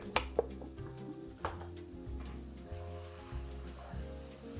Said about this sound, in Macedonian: Пропржете го оризот